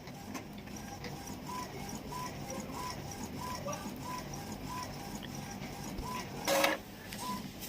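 An Epson L3110 inkjet printer whirs steadily as it adjusts its print head position, with light periodic ticks and clicks and one brief louder mechanical rasp near the end, all without any talking.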